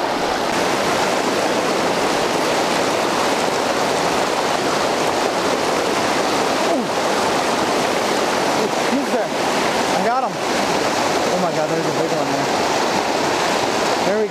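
River current flowing strongly around an angler fly fishing for steelhead, a loud, constant rushing wash that dominates throughout, with voices faintly mixed in.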